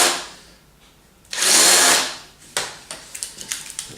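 A power drill whirs in a loud, sustained burst, followed by several short, sharp bursts of drilling and tool noise up close while building a wooden table frame.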